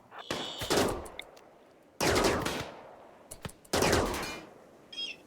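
Gunfire from the colony-survival video game RimWorld: three loud, sharp bursts of rapid shots about a second and a half apart, each ringing out briefly, with a faint high electronic chirp at the end.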